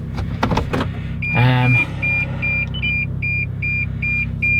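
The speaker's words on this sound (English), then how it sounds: "That's the parking sensor telling me I'm gonna crash in a fire." Car parking sensor beeps repeatedly in short, evenly spaced electronic tones, getting quicker toward the end, over a low idling engine rumble inside the vehicle, with a brief louder mechanical whir near the start.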